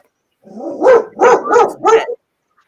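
A dog barks four times in quick succession, loud and close, reacting to people walking by on the sidewalk outside, with silence before and after.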